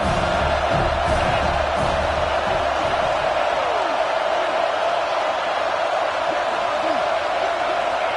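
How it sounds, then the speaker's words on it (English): A stadium crowd roars continuously in the College Football 26 video game, a broad sustained cheer with scattered shouts underneath a commentator's voice. "This crowd knows when to bring it."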